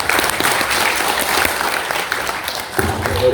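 A lecture audience greets a professor taking the stage at a political reform talk with loud, continuous applause, many hands clapping together close by throughout.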